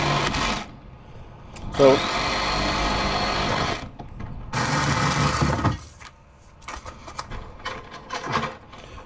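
A Milwaukee Sawzall reciprocating saw runs in close, loud bursts with pauses between them during an electrical service upgrade from 100A to 200A. Someone speaks briefly near the end.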